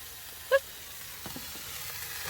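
Onion and other ingredients fry in a pan sprayed with oil, giving a soft, faint, continuous sizzle with a few light clinks of stirring and no talking.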